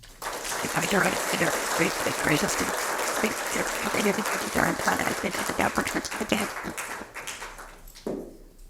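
A large seated audience breaks into sustained applause welcoming two speakers at an event, dense steady clapping that holds loud for several seconds before tapering off near the end.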